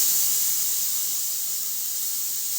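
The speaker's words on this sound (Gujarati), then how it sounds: "કુકરમાં તમને વિસલ વાગતી બતાવજો." Pressure cooker whistle releasing steam while boiling potatoes: a steady, loud, close hiss of escaping steam that holds without a break, high and airy, with no voices over it.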